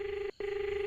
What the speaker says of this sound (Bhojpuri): केकरा फोन लगाता नहीं आधी रात के?